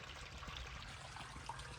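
Overflow water trickles and dribbles in a quiet, faint, continuous stream, with small splashy drips breaking through now and then.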